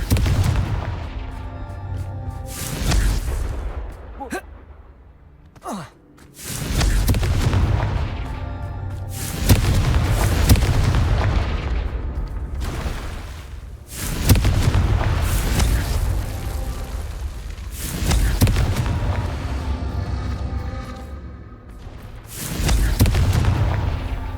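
Confringo fire-curse explosions go off in the Hogwarts Legacy video game. Several loud, booming blasts repeat at intervals, each fading into rumbling decay, with little talking.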